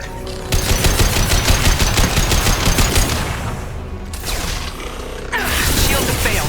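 A turret in Mass Effect 2 fires long, rapid automatic bursts, loud and close, breaks off briefly, then resumes with mechanical clatter.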